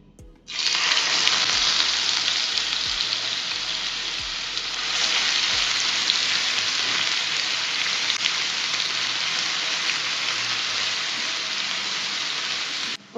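Bottle gourd pieces dropped into hot ghee in a pan, a loud sudden sizzle that settles into steady, dense frying hiss lasting over ten seconds, close up with no talk.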